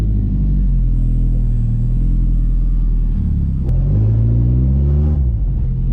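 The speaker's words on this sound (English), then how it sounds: "I'm gonna go take this thing for a test drive" Car with a bolt-on GKTech steering angle kit driven on a test drive, engine rumbling loud and close with rising and falling revs as it accelerates and shifts, no talking.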